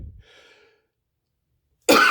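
A man recovering from COVID lets out a single sharp, loud cough, close up, after a moment of near silence and faint breathing.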